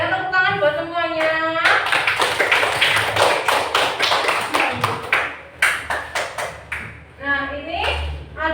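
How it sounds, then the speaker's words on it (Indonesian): A primary school class claps together for classmates: a brisk burst of hand claps at close range, with a teacher's voice heard before and after the clapping. "Tepuk tangan buat semuanya."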